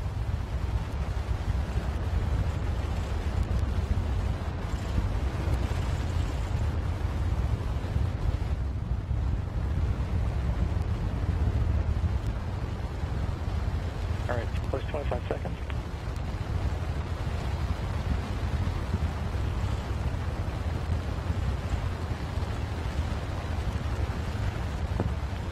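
NASA's first SLS moon rocket engines firing during a ground test, a continuous broad roaring rumble with wind-like buffeting, steady and loud throughout.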